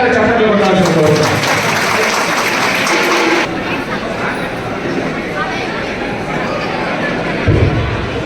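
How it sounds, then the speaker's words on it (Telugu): At a 118th birth anniversary event for Babu Jagjivan Ram at an Ambedkar Bhavan, a hall audience claps loudly and steadily, then the applause drops away into murmuring crowd chatter. "ఒకసారి గట్టిగా చప్పట్లు కొట్టాల్సిన కోరుతాం"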